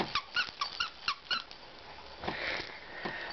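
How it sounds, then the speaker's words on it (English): A squeaky baby toy lets out about seven quick, close squeaks in a rough rhythm, then gives way to softer rustling and a few faint higher squeals. "I think there's a squeak in there somewhere."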